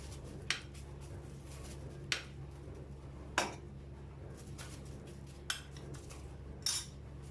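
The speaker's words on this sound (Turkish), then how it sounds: "dondurma kaşığıyla helvamdan, pardon dondurmamdan helvamın içine alıyorum" Metal ice cream scoop clinking against a dish while scooping semolina halva with ice cream, six light sharp taps spaced about a second apart over a quiet hum.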